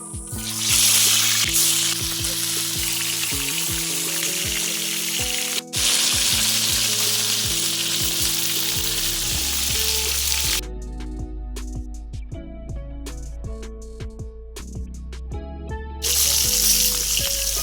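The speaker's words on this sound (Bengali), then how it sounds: "আমরা এখন কড়াইতে তেল দিয়ে পাতুরিগুলো ভেজে নেব" Vegetarian paturi parcels frying in a wok of oil, a loud continuous sizzle and crackle with tonal background music running underneath.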